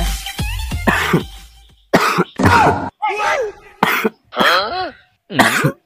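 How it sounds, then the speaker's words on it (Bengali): A person coughs several times and clears their throat in harsh, separate bursts with short pauses between, loud and close. "কাশি আছে"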